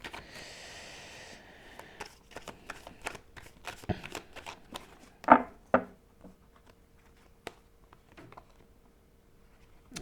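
Tarot cards are shuffled and laid out on a surface, giving soft riffling rustles followed by scattered light slaps and taps, close and quiet with no talk.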